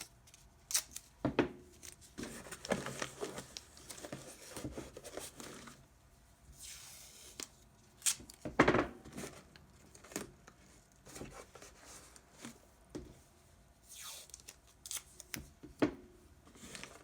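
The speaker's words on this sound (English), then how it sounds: "If your box is an open top, you're going to tape it shut." Packing tape is pulled and pressed onto a cardboard box to seal it shut, giving faint intermittent ripping, crinkling and tapping sounds close by, with quiet gaps between and no speech.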